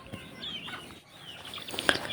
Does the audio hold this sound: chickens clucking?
yes